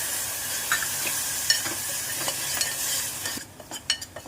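Garam masala and tomato puree sauté in a pan for masoor aamti, a soft continuous sizzle broken by repeated spatula scrapes and clicks, which grow sharper and more prominent toward the end.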